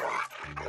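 A biting dog gives a short, low growl close by, a rough rumble lasting under a second with a brief break in the middle and no talking over it.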